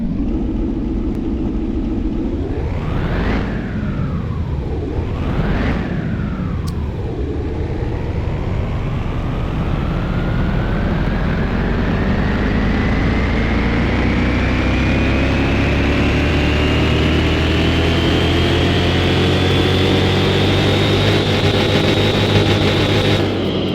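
A car engine runs on a dyno in Car Mechanic Simulator 2021, blipping twice before a long loud full-throttle pull that climbs steadily in pitch with no talk.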